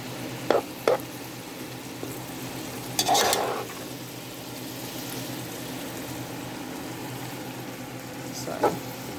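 Kale sautéing in a pan gives a soft, constant sizzle, with a few sharp utensil clicks and one longer scraping stir, heard up close.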